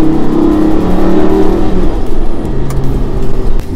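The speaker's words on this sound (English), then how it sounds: "The exhaust is like constantly barking at me, even when I'm driving slow, like in gear 2." A Lamborghini Gallardo LP550-2, a rear-wheel-drive car, is driven slowly in low gear while its exhaust barks and burbles continuously. The engine drone stays loud and close throughout, with no talking.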